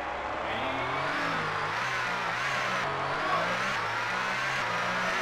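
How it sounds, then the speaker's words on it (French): Synthesized racing car engine from the Nintendo 64 game GT64 Championship Edition, a steady loud drone with its pitch repeatedly climbing and dropping through the gears, no talk. "Et on va voir si par exemple le bruit de la voiture est différente."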